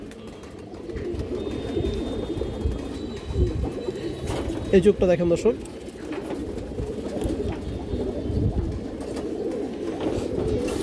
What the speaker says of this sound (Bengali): খুব সুন্দর কবুতর আর চোখটা দেখেন